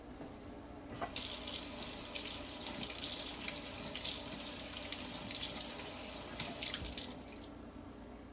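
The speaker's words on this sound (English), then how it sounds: "I'm just going to take a sprig or two of parsley and wash it." Tap water runs steadily into a kitchen sink as parsley sprigs are rinsed under it, a close continuous splashing rush with light drips at the start.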